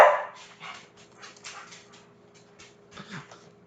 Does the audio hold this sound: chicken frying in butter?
no